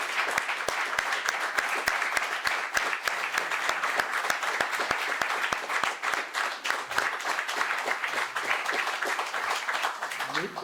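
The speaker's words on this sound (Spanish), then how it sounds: "despedirte con un aplauso, como te mereces" Sustained applause from an audience at a public event honouring a town mayor, dense steady clapping running loudly throughout with a faint voice near the end.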